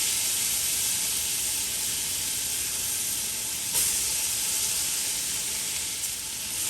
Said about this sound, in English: you just want to fry this around in the oil a bit